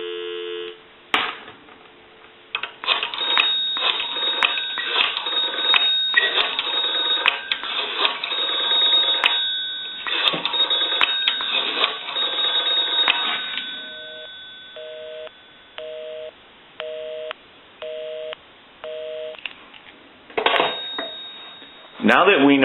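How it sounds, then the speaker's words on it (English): Western Electric 233G three-slot payphone: a long continuous dial tone under handset and line noise, then a steady repeating busy signal of evenly spaced short pulses, ending with a click and a brief return of line noise. "We can call my number and it'll be busy. Give you some dial tone."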